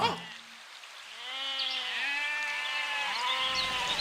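A goat bleating in an animated story: a long, wavering, nasal call that rises and falls several times, close and clear over a soft patter in the background.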